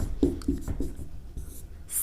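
Pen or pencil writing by hand on paper during a Hindi psychology lesson, a few short scratchy strokes close up, with some background noise and no speech.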